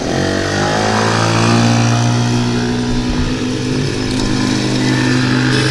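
Small ATV engines, a Kawasaki KFX50 and a Polaris Outlaw 90, run loud and near with a buzzing drone that rises and falls as the throttle changes, with no talk.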